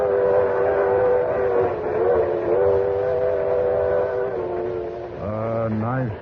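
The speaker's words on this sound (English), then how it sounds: "saw you running for the train when we were pulling out" Train rumble and clatter as a Limited Express pulls out bound for New York, heard as a radio drama sound effect: a sustained, loud rolling drone with a whistle rising near the end.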